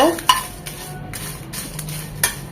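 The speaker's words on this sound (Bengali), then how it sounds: "ওই প্যানে শুকনো মরিচগুলো" Dried red chillies fry in oil in a pan, giving a steady low sizzle broken by a few sharp clinks and scrapes of a utensil against the pan.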